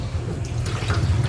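Pork pieces drop into a pot of water for sinigang, giving brief close splashes and watery plops over a low background hum.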